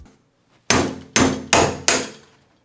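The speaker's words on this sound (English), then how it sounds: "Yeah, my little hammer works." A small hammer knocks out the dishwasher knockout on a kitchen sink, four sharp, loud metallic strikes in a steady rhythm, each ringing briefly, with no talking.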